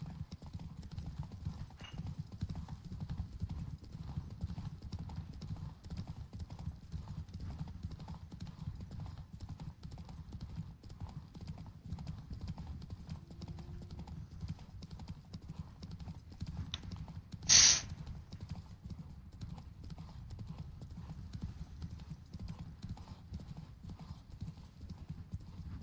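A horse gallops in The Witcher 3, a steady rapid clip-clop of hooves running throughout, with a brief sharp whinny partway through and soft game ambience beneath.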